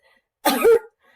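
A person imitates a croup cough with the voice, a single harsh seal-like bark rising out of silence, short and close, lasting under half a second.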